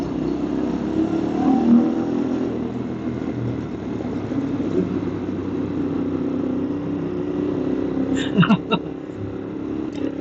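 A car engine pulls gently through traffic, a steady mid-toned drone with mild revving and no speech heard, while a few sharp higher clicks and squeaks surface near the end.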